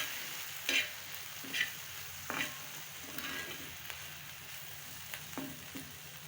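A moth bean (matki) curry masala stirred as it fries in a pan: a soft continuous sizzle with several distinct scraping strokes of the spoon at irregular intervals, no talking.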